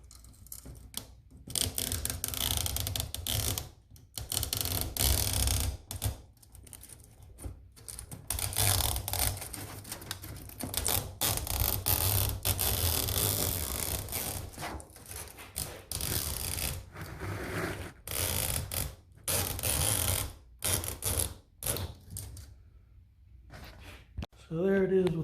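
Scissors or a cutting tool trims window screen mesh along the edge of a window screen frame, giving a close, continuous crisp crunching and snipping with short pauses between strokes.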